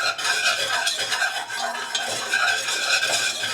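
A banana pudding mixture gets whisked in a bowl, a brisk continuous scraping and clinking of the whisk against the sides, close and steady for a few seconds with no voices.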